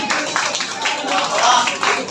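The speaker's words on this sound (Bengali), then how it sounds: "আমরা আসাদ ভাইয়ের জন্য একটা হাততালি আশা করছি।" A crowd claps loudly for boxer Asad at a Bangladeshi professional boxing promotion event, with brisk, dense clapping mixed with voices across the whole moment.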